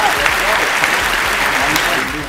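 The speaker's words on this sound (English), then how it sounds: "clap your hands for Tony B2Y" A studio audience claps steadily and loudly for a returning guest on a cooking show, a dense, even burst of applause lasting the whole moment with voices faintly mixed in.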